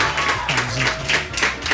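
A studio audience claps in a dense, steady burst of applause at a television show, close and continuous with faint talk beneath.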